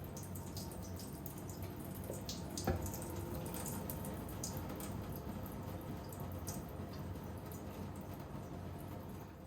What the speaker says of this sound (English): When I water this plant, I water it deeply, fully saturating the soil until water